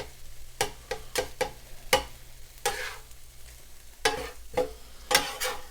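Eggs sizzling on a hot griddle, being mixed with elk, with sharp repeated clicks and scrapes of a utensil stirring them at close range.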